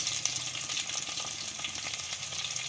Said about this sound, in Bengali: এবার দিয়ে দিচ্ছি 2টো সাইজ মতো কুচিয়ে রাখা পেঁয়াজ।